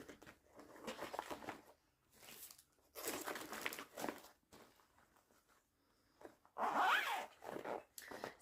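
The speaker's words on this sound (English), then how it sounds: "Sorry about all the zippers." Zippers on fabric bags or pouches are pulled open and shut several times, close and fairly quiet, in quick rasping strokes separated by short pauses, with crinkling handling noise between them.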